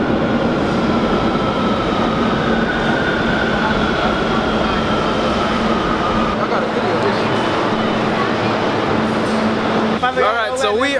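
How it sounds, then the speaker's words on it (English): A subway train in Santo Domingo rumbles loudly and continuously with a steady roar and faint wheel whine, ending in an abrupt shift as it slows or doors act. "About to get on the subway."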